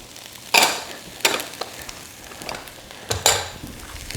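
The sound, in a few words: onions and mushrooms sautéing in a pan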